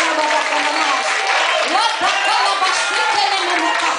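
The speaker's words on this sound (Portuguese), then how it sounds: "As palmas do Senhor." A church congregation claps and cheers together through a steady, dense wash of hand claps, with voices whooping and calling out over it throughout.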